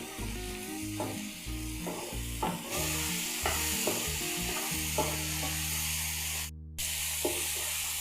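Cut tomatoes and a green chili sauté with onions in an oiled pan for channa masala, a continuous close sizzle with occasional stirring, under steady tonal background music.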